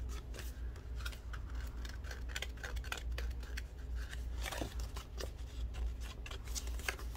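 Scissors snip through paper while trimming a decorated envelope, a steady run of short crisp cuts and rustles close by, with no talking.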